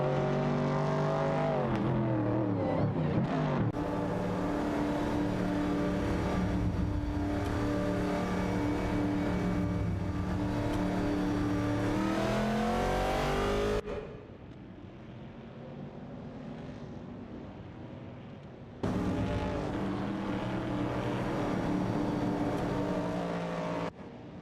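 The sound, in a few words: race cars in an AI racing video game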